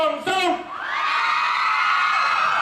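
A crowd at a Thai charity stage event for World Blood Donor Day screams and cheers loudly for a band, a sustained shrill roar that swells after a brief opening shout and holds steady to the end.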